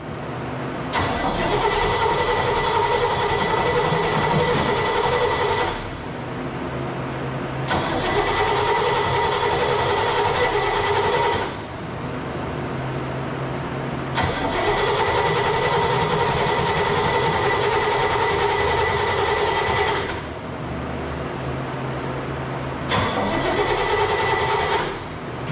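Bobcat V8843 engine with an old choke cranking repeatedly in long bursts of roughly five seconds each, a loud, close, rhythmic starter churn separated by short pauses, without catching and running.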